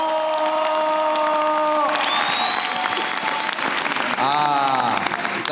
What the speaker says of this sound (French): est-ce que vous pouvez vous manifester par un tonnerre d'applaudissements?